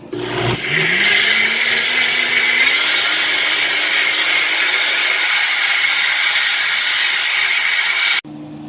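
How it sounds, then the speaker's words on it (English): A blender whirs through hot red wine braising liquid for short ribs, starting with a rising motor pitch and then holding a loud, steady grinding whine for several seconds before cutting off. "for blending it, always be careful with this step because you are blending hot liquid"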